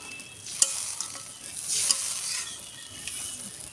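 Fish curry masala of rohu with cumin paste sizzles and hisses in a hot pan as a little water goes in, a steady bright frying hiss with a few sharp spatters and stirring sounds, no voices.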